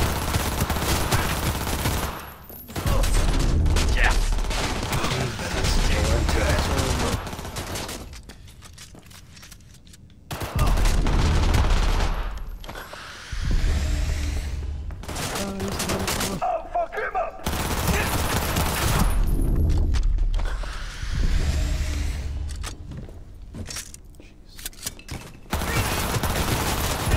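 Gunfire in the video game Cyberpunk 2077 comes in loud bursts of rapid shots, split by short quieter gaps.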